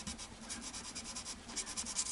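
Sandpaper rubbed in a tight guitar nut slot on a Taylor Baby acoustic, producing a soft, steady back-and-forth scratching close by and fairly quiet, with no speech.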